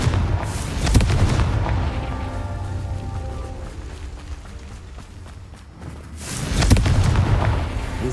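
Confringo fire spell explosions in the Hogwarts Legacy video game, a loud booming blast at the start and another toward the end, with rumbling game sounds in between.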